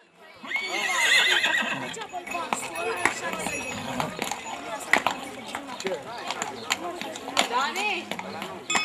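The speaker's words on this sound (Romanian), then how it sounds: "călărașii îmbrăcați în straie populare au venit cu cele mai frumoase exemplare de cai lipițani" Lipizzaner horses ridden by riders in folk costume in a street parade, with repeated loud whinnies and neighs over clip-clopping hooves and crowd noise, talk mixed in throughout.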